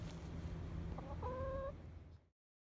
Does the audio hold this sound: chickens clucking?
yes